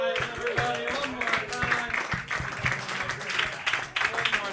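A comedy club audience at a roast battle applauds the comedians, dense clapping with scattered cheers that carries on throughout while a host talks over it.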